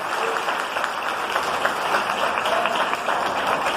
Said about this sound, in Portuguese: Vamos saudar a Jesus com a linda salva de palmas em nome de Jesus.